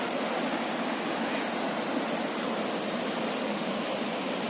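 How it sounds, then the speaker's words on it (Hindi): The Deojharan waterfall near Deogarh pours over rocks in a forested setting, a constant dense roar of falling water that stays even and unbroken throughout, with no voices. "पत्थर रे भरा हुआ पूरा, तार संगे पानी झरी झरी किना आवाटा जेन मजा।"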